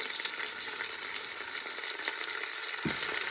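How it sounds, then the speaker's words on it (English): Chicken pieces seasoned with garlic salt, garlic powder and paprika sear in a hot pan with a steady, close, bright sizzle throughout, a soft clunk near the end as a piece shifts. "I'm just going to braise this on both sides really quickly"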